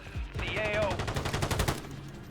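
Rapid gunfire in the video game Warzone, a quick rhythmic burst of shots fired in close succession and fairly near, with a brief voice-like tone at the start.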